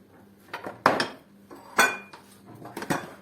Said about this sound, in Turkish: fasulyelerimizi böyle koyuyoruz